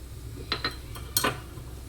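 A few quick light clinks and scrapes of a utensil against a bowl while egg white and rice flour are mixed, three or four brief close taps within a couple of seconds in a quiet room.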